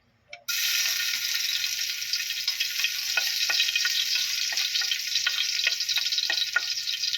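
Garlic dropped into a little hot cooking oil in a pan, bursting into a sudden loud sizzle that holds steady with small crackles and light pan ticks, no voices.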